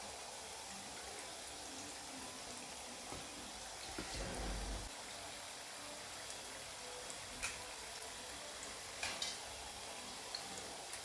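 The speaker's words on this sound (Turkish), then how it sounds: "Yağını süzüp hemen şerbete atıyorum." Hot fried Arabic kadayif, drained of oil, dropped into syrup: a soft broadband sizzling hiss with a brief louder splash and bubbling burst midway, then faint crackles and small ticks continuing alone.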